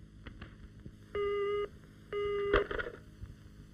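A telephone call tone sounds in two clean beeps of about half a second each, separated by a short pause, over faint background noise in a drama film scene.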